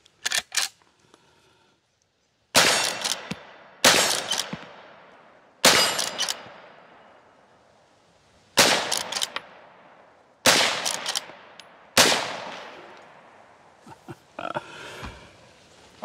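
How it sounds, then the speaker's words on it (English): Henry Octagon Frontier rifle in .22 WMR firing six sharp, loud shots spaced a second or two apart, each ringing out with a decaying echo. "But first, let's do some shooting. 22 WMR, 22 mag."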